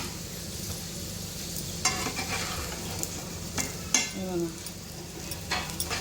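Slices of elephant foot yam (suran) fry in a pan, a low, steady sizzle broken by clinks and scrapes of a utensil as the pieces are turned, with someone talking over it.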